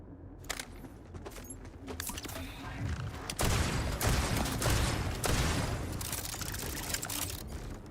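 Spread launcher firing in the video game Borderlands 4, a series of loud bursting blasts and explosive whooshes that swell into a dense rumbling barrage, with a player's voice mixed in.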